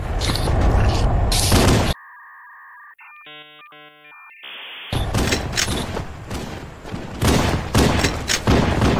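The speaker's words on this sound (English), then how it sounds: "Why is he shooting a gun that shoots guns?" Video game gunfire from Cursed Halo, loud rapid bursts of shots at the start and again through the second half, with a ringing electronic chime pattern between them.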